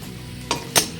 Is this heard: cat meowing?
no